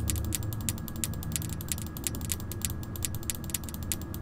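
A ratchet is loosened or tightened in the video game Five Nights at Freddy's: Sister Location, giving a rapid, even series of sharp metallic clicks over a low mechanical hum, close and alone.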